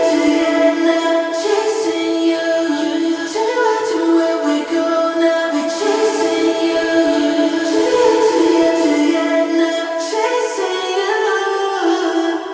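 A sustained sung vocal line over a full, steady music bed, washed in a large reverberant space yet staying clear and forward, continuous throughout.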